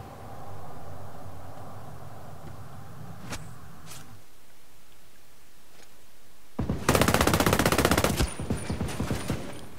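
Gunfire in the video game Ghost Recon Breakpoint, a rapid burst of loud automatic shots near the end after a few isolated cracks and a low rumbling stretch.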